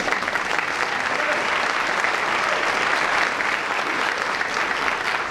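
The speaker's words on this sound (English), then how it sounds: "And so just to give them a big round of applause to thank them for their work." A speech-night audience gives a big round of thanks, dense steady applause filling the room at an even, loud level throughout without a break.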